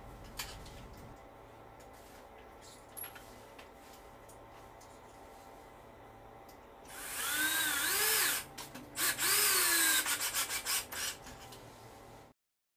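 A power drill drives screws into drywall sheetrock near an electrical outlet box, heard as a loud burst of whirring with a rising then falling pitch, several short bursts following, after a stretch of faint background.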